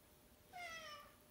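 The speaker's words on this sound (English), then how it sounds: "Meows." A single short cat meow, faint and fairly distant, rising then falling in pitch against a quiet background.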